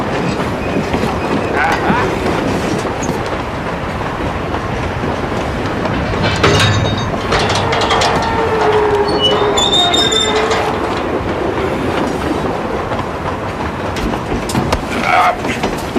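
A train rumbles steadily along the rails, with metallic wheel squeals rising in the middle, continuous and fairly loud throughout.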